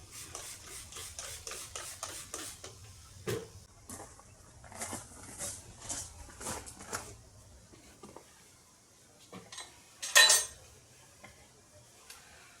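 A motorcycle tire is levered onto its rim with standard metal tire irons and dish soap, making scraping rubs, grinding rasps and sharp metallic clinks, with one loud clank near the end.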